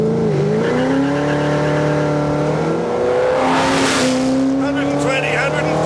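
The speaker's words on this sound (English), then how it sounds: "This thing spins the wheels in every gear." A Ford GT accelerates hard with its wheels spinning. Loud engine revs climb steadily, and a burst of tyre scrabble comes midway. A voice can be heard faintly under the engine.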